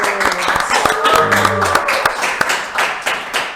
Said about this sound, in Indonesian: Tepuk tangan dong untuk Pak Agus.